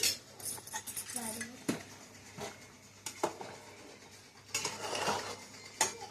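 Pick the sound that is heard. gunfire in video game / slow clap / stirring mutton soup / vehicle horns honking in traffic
stirring mutton soup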